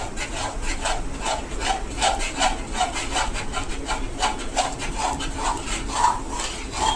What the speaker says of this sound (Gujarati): સતત હલાવી રાખવાનું